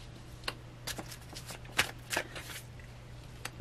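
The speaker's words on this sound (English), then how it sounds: "Let's get the rest of the cards, why don't we?" Tarot cards are shuffled and drawn by hand in a quiet room, giving faint, close riffling and soft slaps in irregular bursts over a low steady hum.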